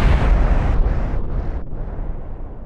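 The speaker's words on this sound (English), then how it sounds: "Unfortunately this means a much quicker explosion at the end there." A rocket crashing and exploding in Kerbal Space Program, a loud deep rumbling blast that rolls on in a few surging waves before fading, with no voices.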